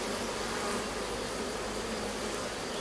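Agitated honeybees swarm around an open Layens hive in stormy weather, a dense continuous buzzing hum close to the microphone, steady and unbroken with no voices.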